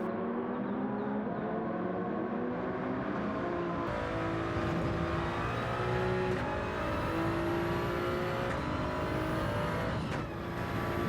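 Race car engine in Gran Turismo 7 at Monza through the chicane, revving high and steady with rising and falling pitch as it brakes and accelerates, loud and continuous with other cars audible, no talk.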